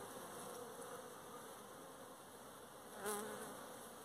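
Dense, steady buzzing of a crowd of honeybees around a honeycomb frame heavy with honey, held close and continuous throughout, with a slightly louder swell near the end.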